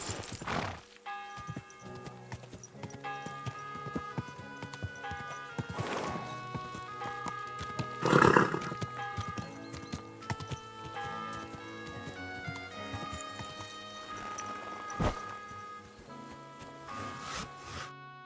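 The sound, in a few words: horse neighing and hooves in video game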